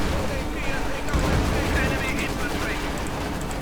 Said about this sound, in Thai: ไปเข้าปืนกลยิง